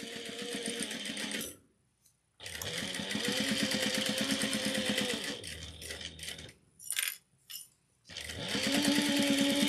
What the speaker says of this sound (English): I'm going to backstitch at the beginning and end.